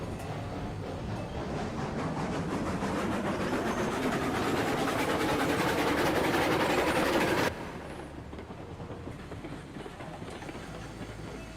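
A game train from Railroads Online rumbles steadily along the track with a dense clatter of wagons, loud and continuous, then drops abruptly to a quieter rolling hum for the last few seconds.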